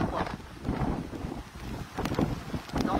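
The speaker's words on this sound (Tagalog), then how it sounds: "Itong hangin niya." Typhoon Marce's wind gusts in Aparri, Cagayan, buffeting the microphone in rough, uneven surges that rise and fall over a few seconds, loud and close.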